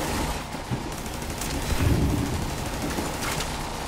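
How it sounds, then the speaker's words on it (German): Gunfire in The Division 2, with a sniper rifle among the shots, comes as a dense, continuous barrage of overlapping reports and booms that stays loud from start to finish. "Ein Scharfschütze."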